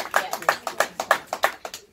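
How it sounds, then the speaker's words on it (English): Applause from a family gathering audience in Lilongwe, heard as a steady rhythmic series of close, sharp hand claps at a moderate tempo, fairly loud and without talk. "I think we need to give them applause."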